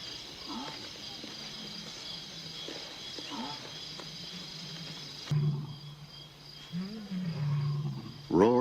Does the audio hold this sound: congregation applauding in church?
no